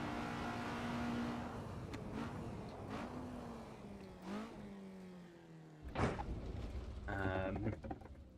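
A race car engine revs and shifts through the gears in an Assetto Corsa sim race. The loud, droning engine pitch climbs, drops at each shift, and carries on steadily.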